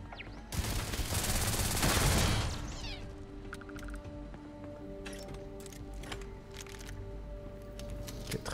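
Automatic gunfire in Starfield rattles in one loud, dense burst for a couple of seconds, then fades into scattered clicks, tones and distant ambient rumble.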